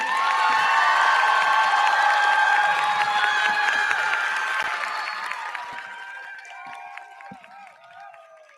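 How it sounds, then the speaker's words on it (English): A crowd at a high school graduation ceremony applauds and cheers for the class of 2024, loud at first and then tapering off, with scattered shouts and voices mixed in. "Round of applause for the class of 2024."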